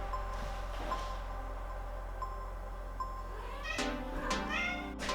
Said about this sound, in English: All she does is meow.